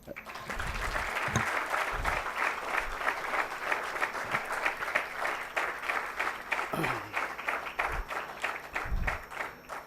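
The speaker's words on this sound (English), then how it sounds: "can we applaud for this entire presentation?" A crowd applauding at the end of an interior design presentation, sustained and even clapping from many hands that fills the whole stretch, with a few low thumps and murmurs of voices mixed in beneath.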